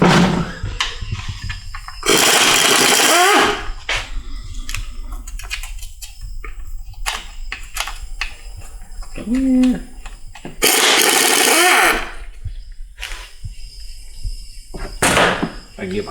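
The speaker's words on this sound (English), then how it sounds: "So, time to get the air gun out. Take the pan off first." Pneumatic air impact gun zipping transmission pan bolts off a 2008 Jeep Patriot with a broken transmission: two loud sustained buzzing bursts and a short final one, separated by clinks and shop clatter, with brief talk in between.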